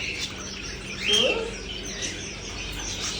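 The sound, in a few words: canaries and small birds chirping at animal market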